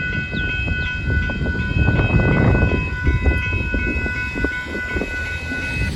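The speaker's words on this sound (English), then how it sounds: "Northbound Union Pacific, Hopper Car Train, and Dittmar Road plus Horn Show" A northbound Union Pacific freight train of hopper cars passes the Dittmar Road crossing in Austin, Texas, its multi-tone horn sounding steadily over the heavy, rhythmic rumble and clatter of the cars, close and loud.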